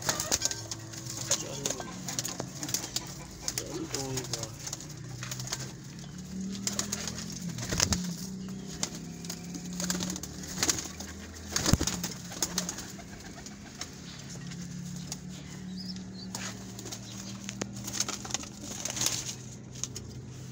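Pigeons coo softly and repeatedly nearby amid rustling, clattering background noise, with occasional muffled voices.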